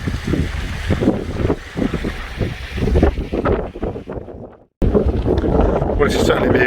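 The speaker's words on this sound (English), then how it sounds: "this is certainly going to be a good test of the wind on this tent" Strong gusts batter a tent pitched outdoors for the night, roaring and buffeting loudly and continuously, with a brief lull before the wind surges back at full force.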